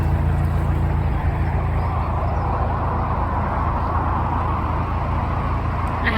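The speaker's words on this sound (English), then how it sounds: "as you can hear the traffic there" Road traffic on the A38 rumbles steadily alongside a canal, a continuous, fairly loud low drone of passing vehicles heard from a narrowboat, with no talking.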